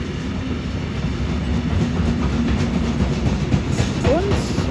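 A train departs Gießen station: a steady, loud rumble of rolling wheels and engine, with rhythmic rail clatter and a rising whine or squeal near the end.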